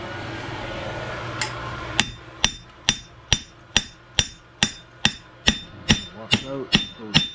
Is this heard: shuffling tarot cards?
no